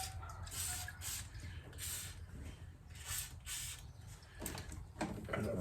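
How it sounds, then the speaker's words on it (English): Short bursts of penetrating lubricant sprayed from an aerosol can onto Yamaha Venture XVZ1300 carburetor parts, several hissing spurts at close range over a low background rumble. "I'm just going to put a light film of this penetrating lubricant."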